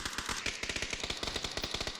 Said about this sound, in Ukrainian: Прямо через дорогу в нас два тіпа стріляються.